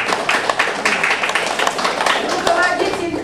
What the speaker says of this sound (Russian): мы точно так же их всех будем приветствовать аплодисментами